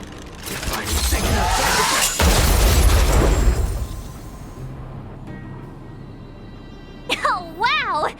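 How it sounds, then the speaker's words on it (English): Automaton stealth bomb going off in Honkai: Star Rail, a loud booming blast with shattering debris that rumbles and fades over a few seconds before a brief electronic warble. "We wiped them all out in a single explosion!"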